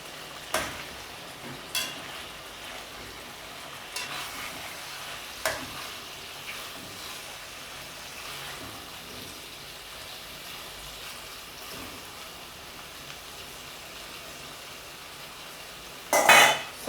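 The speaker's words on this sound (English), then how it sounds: "The liver and the seasoning as well into the pot, and I put the heat on, I would say, high" Chicken liver and seasoning cooking in a pot over high heat for Jamaican stewed liver, a steady low sizzle with occasional sharp stirring knocks and a louder scrape near the end.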